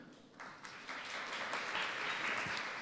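An audience at a leadership plenary session applauds after a speech, steady clapping that builds slightly and holds at moderate level throughout.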